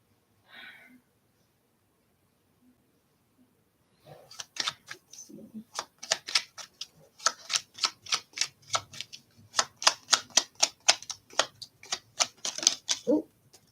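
Tarot cards being shuffled by hand, a quick run of crisp riffling clicks and flicks, close and fairly quiet, starting after a brief silence and speeding up into dense bursts.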